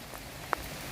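Rain patters steadily onto a woodland path beneath tree cover, a soft even hiss with one brief sharper drip standing out midway.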